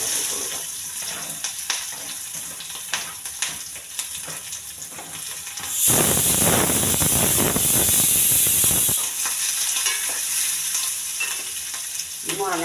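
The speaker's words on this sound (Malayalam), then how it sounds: "നമുക്കിതിനകത്ത് സവോള പച്ചമുളക് ഇട്ട് കൊടുക്കാം" Onion, green chili, ginger and garlic hitting hot oil in a pan for poori masala, with a loud burst of sizzling and spattering lasting a few seconds, set between quieter stirring and light frying noise.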